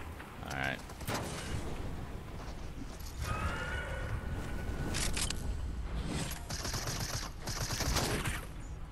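An enemy player's guns fire in a battle royale video game, with bursts of shots spread across the clip amid other game noise, fairly close and loud.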